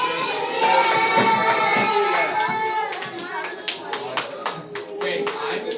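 Classroom of young children clapping for their classmates, a steady patter of many small hands that grows into uneven, louder claps toward the end, with children's voices chattering underneath.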